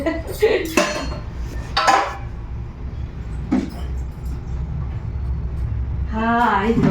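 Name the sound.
steel utensils clanking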